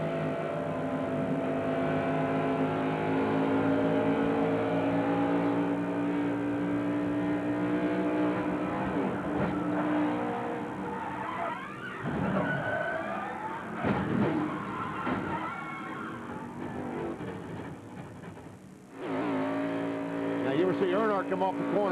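Onboard engine of Ward Burton's NASCAR Winston Cup race car at Homestead-Miami, loud and steady at high revs, then the pitch sags and surges as the throttle is feathered, with commentators talking over it.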